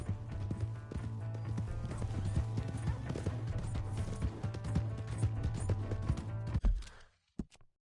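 A horse gallops in Red Dead Redemption 2, its hooves clip-clopping in a fast steady rhythm over game music and ambience, ending abruptly with a few isolated thumps; a brief whinny may surface.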